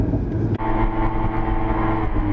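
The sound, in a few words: sports car engine revving in neutral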